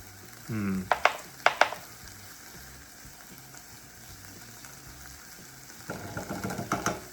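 Onions and cumin go into a hot pan and sizzle at close range, with a few sharp clinks of stirring at the start. The frying swells again near the end, with no talk over it.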